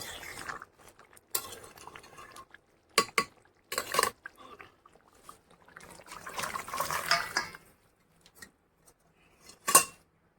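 Garam masala stirred into chicken kosha in a pan: soft scraping and clinking of a spoon against the pan in irregular bursts, close and fairly quiet, with a sharper clink near the end.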